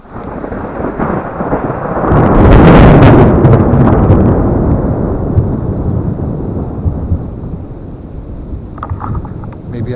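Loud rolling thunder after a lightning flash during a rainy storm at a wild campsite, rumbling up to a deep peak and slowly fading away under steady rain and wind noise.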